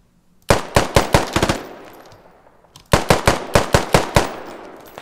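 Machine gun fire in the video game Squad comes as two loud bursts of about six sharp shots each, the second following a second-long pause, with short decaying echoes and no talk.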